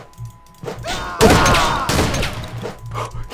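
A single heavy shotgun blast in the video game Survival Post Apocalypse Now booms out close and loud, then trails off into a rumbling tail.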